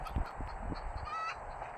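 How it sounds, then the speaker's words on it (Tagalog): A chicken clucks and honks amid the game soundscape of Call of Duty, a short, fairly close fowl call over a steady low rumble of background game noise, with no talking. "Ba't may manok?"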